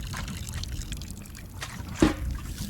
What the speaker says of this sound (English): Right, I'm going to water it